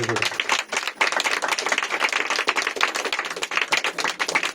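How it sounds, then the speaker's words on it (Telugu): An indoor audience clapping loudly together in a dense, continuous burst of applause lasting several seconds, close and steady with no pause. "బిగ్గరగా చప్పట్లు కొడుతూ ఉండాలి."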